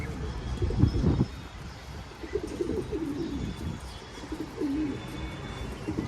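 Low, rounded pigeon coos repeat through the clip on a rooftop terrace, mixed with soft rustling and a couple of louder bumps early on; no one speaks.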